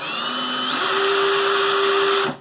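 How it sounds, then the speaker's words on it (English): An electric drill drives a fly line winder spool, a steady high whine that rises in pitch as it speeds up, then holds at a constant loud tone before stopping abruptly. "it's quite possible to drive this with an electric drill if you're looking to go fast"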